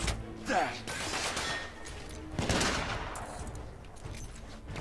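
Gunfire in The Order 1886, a burst of rapid shots at the start and another volley midway, with sustained battle noise continuing between them.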